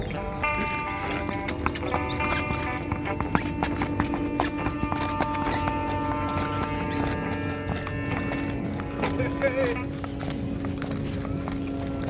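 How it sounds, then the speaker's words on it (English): Horse hooves clip-clop steadily and close by on a cowboy trail ride, under a background of tonal music with brief light talk. "Well, that's some fancy footwork, horsey."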